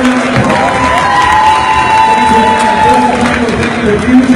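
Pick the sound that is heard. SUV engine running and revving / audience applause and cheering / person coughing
audience applause and cheering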